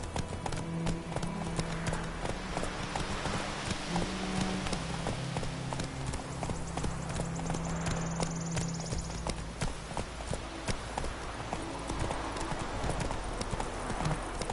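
Roach the horse's hooves in The Witcher 3, a fast, even clip-clop of galloping running throughout, close and loud, with people talking quietly over parts of it.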